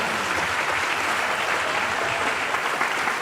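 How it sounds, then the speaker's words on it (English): School audience applauding a standing grade 2 class, a steady dense wash of many hands clapping at once, sustained and fairly loud for the whole stretch with no talk over it. "Big round of applause."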